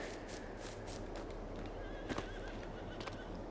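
A horse in Farming Simulator 22 gives a short whinny in the middle, faint against a steady low background hum and scattered soft clicks.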